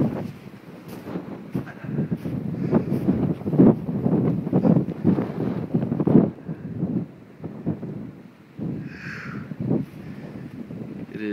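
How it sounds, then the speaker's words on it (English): Strong gusting wind during a blizzard in Oklahoma, roaring and buffeting against the microphone in uneven surges, with rumbling low gusts rising and easing throughout. "The wind is brutal."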